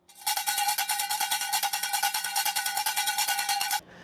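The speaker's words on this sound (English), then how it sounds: "And here's the sound of the cowbells." Junkanoo cowbells from the Bahamas clang in a fast, steady rhythm of bright metallic strikes, loud and close, running for about three and a half seconds before stopping abruptly.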